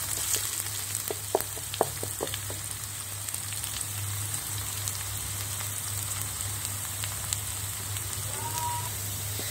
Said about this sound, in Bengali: আদা কুচি, রসুন কুচি, সবগুলি উপকরণ আমি একটু ভেজে নেব